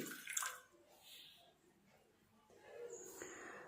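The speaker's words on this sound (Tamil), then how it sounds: "இப்போ ஒரு பாத்திரத்தில் ஒரு ஒன்றரை கிளாஸ் அளவுக்கு தண்ணீர் ஊற்றிக்கலாம்" About one and a half glasses of water is poured into a cooking vessel for a home remedy, making a faint, soft splashing stream that starts, pauses, and resumes near the end.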